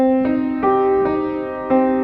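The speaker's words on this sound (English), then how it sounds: "it would be a minor chord by changing the middle note." A piano plays a minor chord with the middle note changed, struck about four times in a loose rhythm and ringing between strikes, with no voices.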